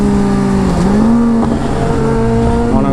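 A Kawasaki ZX10R motorcycle engine revs close by, back on the road after service. The loud, buzzing tone climbs and dips through a few quick throttle blips and holds a steady high note, with no voices.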